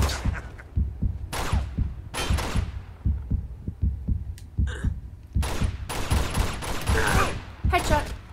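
Enemy gunfire in Uncharted 2: Among Thieves, rapid repeated shots and bursts thudding close and loud, with sharp cracks scattered among them and brief voices between the volleys.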